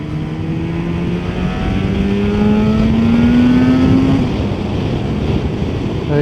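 Yamaha RD500 two-stroke motorcycle on a road run, engine droning steadily and rising in pitch as it pulls through the gears, heavy wind rush masking much of it, no talking.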